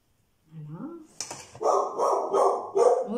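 A dog barks in a home kitchen during cooking: a rising whine, then four or five loud, evenly spaced barks close by.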